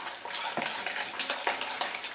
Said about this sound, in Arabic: انا حاليا ما كيتوفرش عندي، لذلك غادي نكتفي فقط بالخلاط اليدوي.